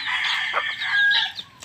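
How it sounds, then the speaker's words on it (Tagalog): Native chickens with chicks on a rural farm, with a near, loud flurry of overlapping high chick peeps and hen clucks lasting under two seconds. "Saka ito naman yung mga native natin Ayan, may mga sisiw."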